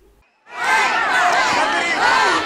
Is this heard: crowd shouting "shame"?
yes